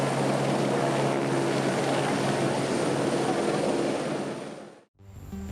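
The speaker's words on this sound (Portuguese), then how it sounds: "também os helicópteros sobrevoando essa região" A loud, continuous rotor drone of helicopters flying over Petrópolis, Brazil, fills most of the clip, then drops away abruptly near the end before resuming.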